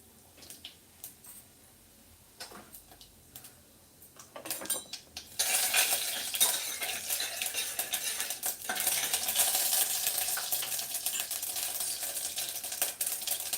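Cumin and mustard seeds splutter in hot oil, a quiet few clicks giving way after a few seconds to a loud, dense, steady crackle that continues to the end.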